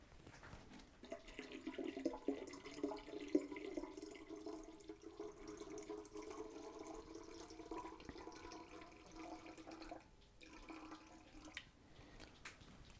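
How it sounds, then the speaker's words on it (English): Water runs from a tap into a glass wine carboy during a home wine kit ferment, a steady trickling stream with a rising, filling tone, close and continuous, with a short pause near the end. "So I'll top this up all the way to the neck with water"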